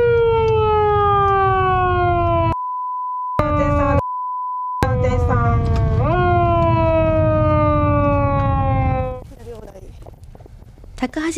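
A Japanese prefectural police mobile patrol car's siren on night patrol: a loud, close, steady wail whose pitch slides smoothly, broken by two short cut-outs, before it stops abruptly near the end and leaves rustling noise.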